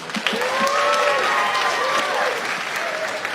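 Large stand-up comedy audience of about 1,400 applauding in a theater, a steady dense wash of clapping with some crowd murmur throughout.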